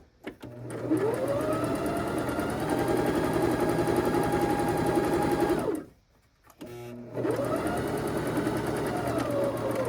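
A sewing machine stitches small marionette pants in a long, loud, close run, stops briefly, then starts up again.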